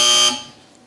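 A QI quiz-show panel buzzer gives one loud, steady electronic alarm-like tone that cuts off sharply after about a quarter second and leaves a fading tail.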